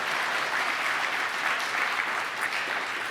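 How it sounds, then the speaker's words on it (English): Conference attendees at a JupyterCon 2023 talk clap together in a dense, even burst of applause that holds steady throughout, with no voices over it. "You can clap, thank you."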